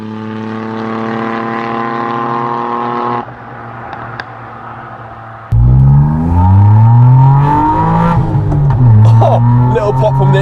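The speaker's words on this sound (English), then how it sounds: "Little pop from the exhaust there." A Suzuki Alto Works engine idles steadily, drops briefly, then revs up hard with rising pitch and a small exhaust pop, loud and close, with people talking over it.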